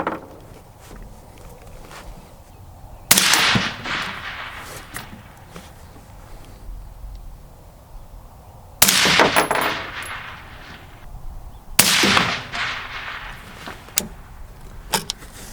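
Three sharp gunshots from a firearm ejecting hot brass casings, loud and close, each followed by a brief ringing decay and spaced several seconds apart over quiet outdoor background.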